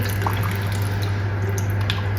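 Water drains steadily from boiled banana flower vegetable in a kitchen, a soft continuous trickle with faint drips over a low steady hum, with no talking.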